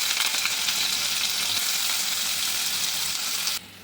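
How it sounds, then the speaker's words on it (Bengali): Paneer pieces fry in hot oil in a wok with a loud, steady hiss of bubbling oil that runs continuously, then drops suddenly quieter near the end. "দেখো তেল গরম হয়ে গেছে, এবার পনিরগুলো আমি দিয়ে দেবো একে একে এর মধ্যে"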